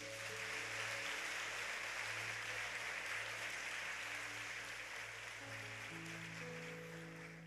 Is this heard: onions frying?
no